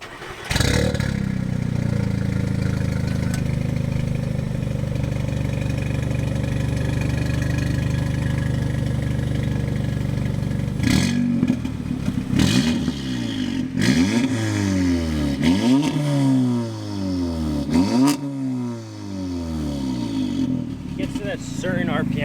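An Audi S3 with an EQT Stage 2 tune settles into a loud, steady idle for several seconds, then gives a string of sharp revs that climb and fall with a raspy edge, while someone talks nearby.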